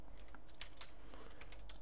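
Typing on a computer keyboard produces a quick series of soft, close key clicks over a low background hum, with no talking.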